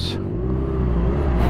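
A 2018 Honda CBR 600 RR motorcycle engine drones steadily at close range for a second and a half. A voice can be heard over it.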